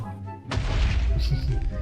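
A sudden loud, booming Minecraft creeper explosion erupts and rumbles on, with a voice talking just before.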